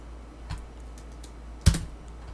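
Keys on a computer keyboard tapped a few times in short separate clicks, one sharper and louder than the rest, close by in a quiet room while a command is entered.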